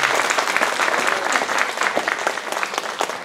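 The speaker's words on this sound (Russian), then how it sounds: "Аплодисменты Иисусу Христу, спаситель нашему" A congregation at a church service claps steadily and loudly throughout, a dense, continuous patter of many hands with no pauses.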